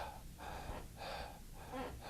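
Shallow, rapid breathing demonstrated by a person, quick audible in-and-out breaths repeating at a steady rhythm, close and fairly quiet, with no talk.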